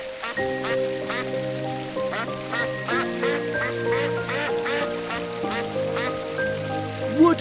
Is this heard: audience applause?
no